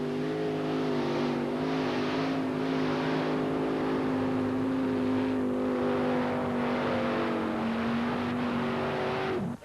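A pulling vehicle's engine roars at sustained high revs while towing a sled by the drawbar at a 1991 USHRA event in Bowling Green, a loud, continuous drone with pulsing rises and falls and a slight drop in pitch near the end.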